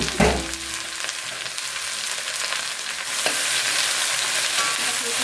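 Chopped okra, beans, onion and green chilli frying in a pan: a loud, continuous broad sizzle that gets noticeably stronger about three seconds in, with a brief clatter near the start.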